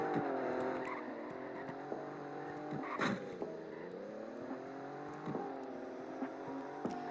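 An Alfa Romeo Giulia in a video game accelerates hard, its engine note climbing steadily through the gears with brief shift dips, loud and continuous with no talking over it.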